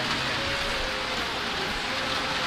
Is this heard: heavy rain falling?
yes